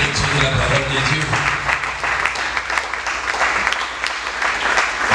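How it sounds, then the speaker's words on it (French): A church congregation claps and cheers for the Bible reading, a dense, lively applause that runs the whole time with voices mixed through it. "Acclamons très très fort pour la lecture de la parole de Dieu"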